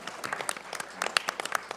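Short burst of scattered clapping from a church congregation at an evening live service, welcoming a police officer from a gang prevention unit; uneven, fairly close claps lasting under two seconds.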